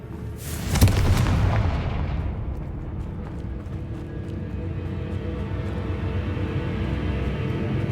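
A Confringo fire-blast spell in Hogwarts Legacy explodes in one sharp, loud boom that decays into a long rumbling roar.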